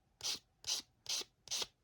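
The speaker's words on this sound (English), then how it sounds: "rough that up with a sander" A sander roughs up the rubber tire of a model M102 howitzer in four even, quiet strokes, each a short hissing scrape with brief pauses between.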